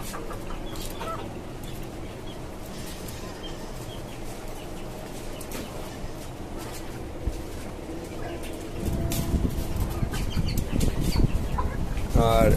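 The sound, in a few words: desi and tiger chickens on rooftop farm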